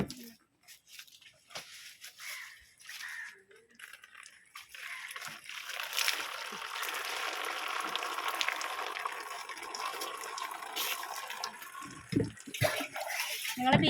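Leaves are washed under a running tap, the water flow starting faint and becoming a steady, louder gush with occasional sloshing and splashes toward the end.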